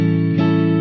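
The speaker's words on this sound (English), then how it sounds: "So usually a dominant chord sounds like this." Electric guitar with a lo-fi tone holds a plain dominant chord that rings steadily, close and loud, with a slight shift of the voicing partway through.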